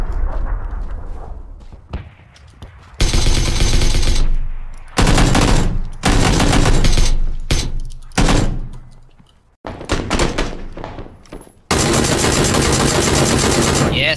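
Tommy gun bursts in PUBG, loud sustained automatic fire in several long volleys separated by short pauses, with a voice talking faintly in the gaps.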